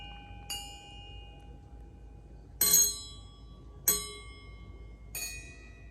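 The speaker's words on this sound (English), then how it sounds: "So they all sound like temple bells." A homemade touch-less instrument rings out with four separate bell-like strikes, each a bright metallic tone that sustains and slowly decays like a temple bell, spaced a second or so apart over near silence.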